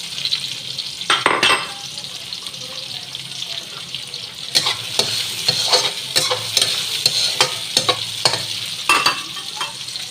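Vegetables are stir-fried in a hot pan, with a continuous sizzle broken by repeated clattering scrapes and stirring strokes of a utensil, close and fairly loud, with no talking.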